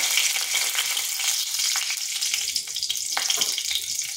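Nigella seeds and two dried red chilies fry in hot oil, giving a steady, close, bright sizzle with scattered small crackles throughout and no voices.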